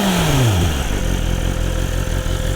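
A 2024 BMW S1000RR motorcycle engine drops from a high rev with a falling whine, then settles into a loud, steady, close idle rumble with no voices.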